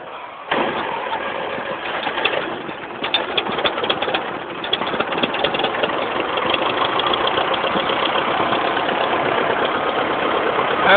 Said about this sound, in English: After choking it one time, see it cranks up.